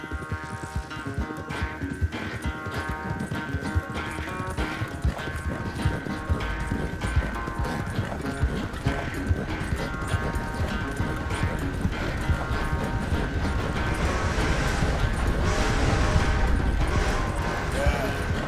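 Horse hooves clip-clop steadily in Red Dead Redemption 2, a continuous trotting rhythm under in-game dialogue and a dense music score that fills the whole stretch.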